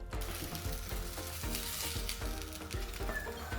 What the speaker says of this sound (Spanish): Pongo el sartén en la estufa, un poco de aceite y finalmente pongo los huevos a calentar.